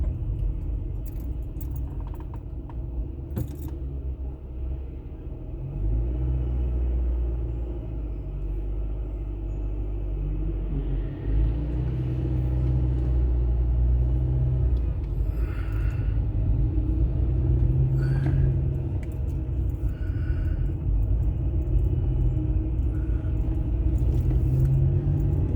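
A car drives through busy school-time traffic on town streets in Halifax, a steady close engine and tyre rumble with passing traffic swelling louder over time and occasional rattles, no voices.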